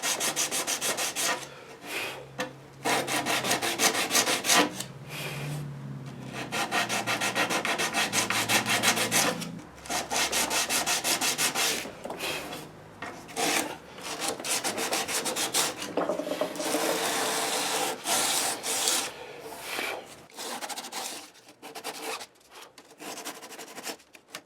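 Wood of a 10-string classical guitar being sanded with 180-grit sandpaper, a series of brisk rasping strokes in irregular bursts with short pauses between them, close and clear.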